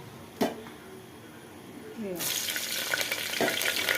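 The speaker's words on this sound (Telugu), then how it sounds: "నూనె పోసి పోపిత్తలు వేసి" Tempering spices hit hot oil partway through with a sudden loud crackling sizzle that continues steadily. It follows a sharp knock and quieter kitchen sounds, and a voice speaks over it.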